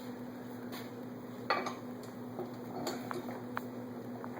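A metal dough hook is fitted onto a stand mixer, giving a few light metallic clicks and clinks over a low steady hum, quiet and close.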